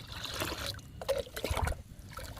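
Homemade liquid fertilizer made from fruit peels trickles and splashes as it is poured onto fruit plants, a close, uneven dribble lasting a couple of seconds with no talk.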